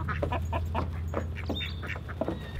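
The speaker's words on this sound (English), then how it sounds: "There are the ducks." Ducks quacking near a mobile chicken coop under construction, a quick run of repeated nasal calls from several birds over a low steady hum, close and moderately loud.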